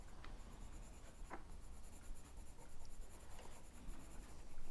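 A paintbrush lays light orange Bic Kids Aquacouleur colour across paper, giving faint, soft scratchy strokes close by over a quiet background, with no voices.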